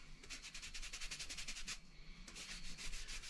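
A cloth rubs conditioner into a black-dyed leather flashlight holder with fast back-and-forth strokes, a soft, close, quiet swishing in a steady rhythm with a short pause midway.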